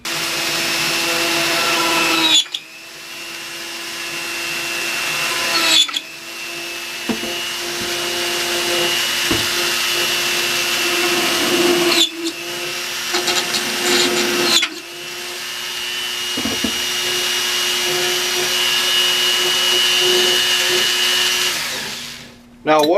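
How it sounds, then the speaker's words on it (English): Dremel rotary tool whines steadily while spotting out holes in a carbon fiber BMW H2 motorcycle part, running in several long passes broken by short pauses, loud and close. "I'm just going to spot these out with a Dremel tool"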